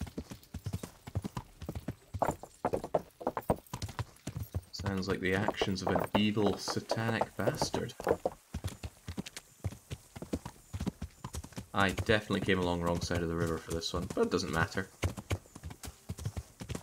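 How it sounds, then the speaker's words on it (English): Horse hooves clip-clop in a steady rhythm as a rider travels across medieval Bohemia in the video game Kingdom Come: Deliverance, running beneath a man's near, continuous commentary. "get to immerse ourselves in riding around Bohemia on a horse"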